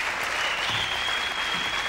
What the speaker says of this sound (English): And the crowd already showing their appreciation